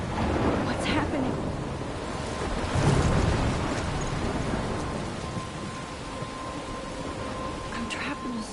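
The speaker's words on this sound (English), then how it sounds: "I'm trapped in a storm?" Thunderstorm in Life is Strange: steady heavy rain hisses throughout while rolling thunder swells loudest near the middle, with a few sharper cracks, no voices.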